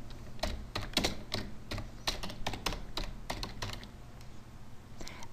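Typing on a computer keyboard, a quick irregular run of sharp key clicks, close and fairly quiet, with a short pause near the end before a few more taps.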